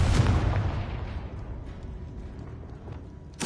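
A Confringo fire spell detonates in Hogwarts Legacy, a loud booming blast at the start that rumbles and fades, followed by a sharper crack at the very end.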